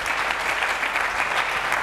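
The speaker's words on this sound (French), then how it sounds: "Acclamons très fort pour les voix." Loud, dense applause from a church congregation during a sermon, steady and sustained throughout without any talking over it.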